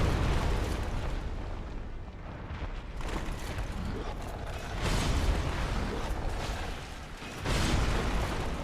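Booming blasts from a boss in Dark Souls, a demon resembling the Asylum Demon, erupt as loud broadband bursts over continuous game noise, with surges near three, five and seven and a half seconds.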